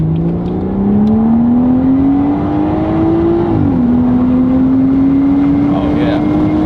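A BMW 340i with an AWE catback exhaust pulls at full throttle, its engine note rising steadily, dipping at a gear change, then climbing again in a loud, continuous drone heard from inside the car.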